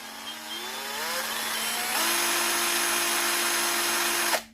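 A Bonchi cordless masonry drill whirs steadily, speeding up to a higher, constant whine midway before abruptly cutting off at the end.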